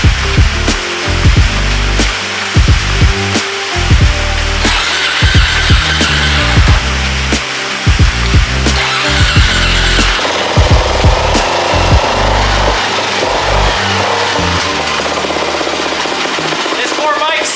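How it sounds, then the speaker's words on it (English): A worn Suzuki DR-Z 400 motorcycle with a faulty carburetor runs rough and will not idle cold, its engine sputtering and revving unevenly, loud and close, with scattered bursts throughout. "Yeah, doesn't want to idle unless it's warmed up."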